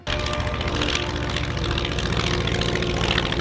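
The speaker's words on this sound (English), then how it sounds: "as the planes flew by" Planes flying past at the Geneseo Airshow, a loud, steady engine and propeller drone that fills the whole moment without letting up, with no voices over it.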